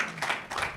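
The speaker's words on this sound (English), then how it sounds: "let's give that a round of applause" Audience applause at an inclusive-education panel event, a brief burst of dense clapping from a crowd, fairly steady across its short length.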